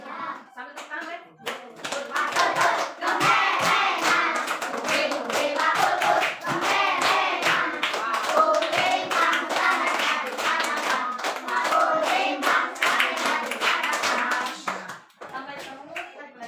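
A school class claps along in steady rhythm while singing a regional Indonesian song together, the claps bright and continuous under the children's voices from start to finish.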